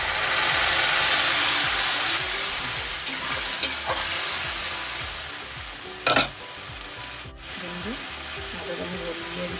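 Onion, chilli and tomato frying in a pan for a Bengali katla fish curry with ridge gourd: a loud, close, steady sizzle with scraping stirs and one sharp clatter partway through.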